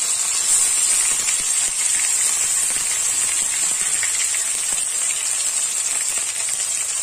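Garlic paste hits a hot pan for chicken curry, giving a steady bright frying sizzle and hiss that holds evenly from start to finish with no talking.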